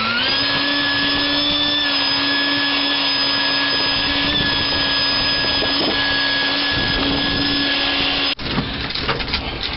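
A vacuum cleaner roars close and loud while sucking a nest out of a 1975 Dodge D100 pickup truck, its steady whine holding for about eight seconds before cutting off abruptly into rustling and knocking handling noises.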